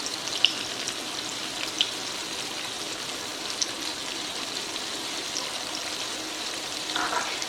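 Tomatoes and spices frying in a pan for chicken kababs in masala, a steady close sizzle with faint crackles and a few small pops, continuous throughout with no voices.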